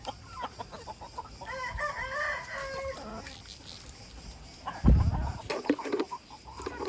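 Hens clucking with a rooster crowing in a backyard coop during hot weather, calls rising near and clear over a murmur of farmyard noise, with a dull thump partway through.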